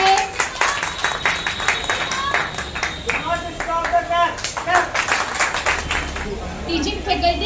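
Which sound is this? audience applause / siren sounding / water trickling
audience applause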